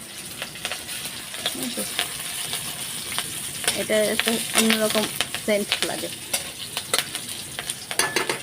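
Chillies for tempering dal sizzle and crackle in hot oil, with occasional clinks of stirring, while a person talks over the frying.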